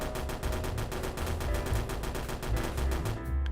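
An AK rifle fires on full auto in a video game demo. Rapid, evenly spaced shots form one loud, sustained burst lasting about three seconds, then cut off abruptly.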